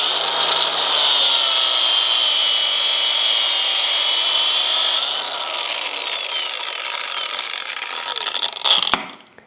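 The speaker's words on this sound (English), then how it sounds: "What I really prefer though, especially when I'm here at the shop, is an angle grinder with a cutoff wheel." An angle grinder fitted with a cutoff wheel slices through hydraulic hose in a shop: a steady, loud high-pitched grinding whine that drops in tone partway through, ending with a brief sharp burst as the wheel breaks through.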